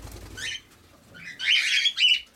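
Budgerigars squawk in a short, harsh call, then a louder burst of chattering and wing flapping follows close by, with no voices.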